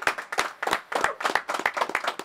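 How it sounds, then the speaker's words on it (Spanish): Small studio audience claps to welcome Myke Towers, a handful of distinct, uneven hand claps in quick irregular bursts, close and fairly sharp rather than a dense crowd roar. "Recibamos con un fuerte aplauso que no va a ser tan fuerte como cualquiera de las tres funciones en el Choli a Mike Tower"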